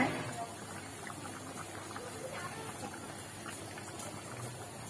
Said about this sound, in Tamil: இப்ப இந்த சிக்கன் வந்து கொதிக்க ஆரம்பிச்சிருச்சு